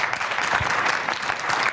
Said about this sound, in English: I'm gonna clap for everybody